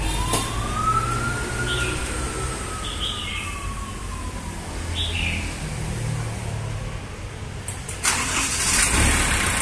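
A Shibaura P26F tractor's diesel engine is cranked by the starter and catches, settling into a loud, steady rumbling idle close by, with a rising whine early on and a sharp clatter near the end.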